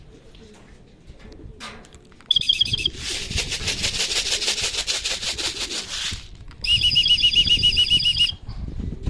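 Racing pigeons arrive from an 85 km training toss in Munoz, Nueva Ecija, with loud bursts of flapping wings and some bird calls close by, while someone talks over them.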